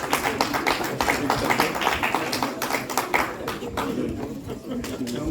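An audience applauds at a diploma ceremony held in the French Senate, with dense, irregular clapping that runs throughout, slowly thinning near the end, while voices carry over it.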